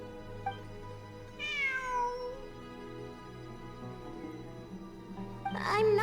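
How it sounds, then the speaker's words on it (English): A cat meows in the Genshin Impact video game, two drawn-out, falling mews separated by a few seconds over a quiet, steady game soundtrack hum. "It really is a cat."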